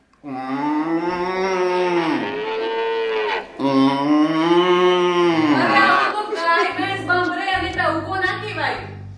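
A person mimics the low, drawn-out mooing of a cow or buffalo in two long, loud, close calls that waver in pitch, followed by briefer voiced sounds near the end.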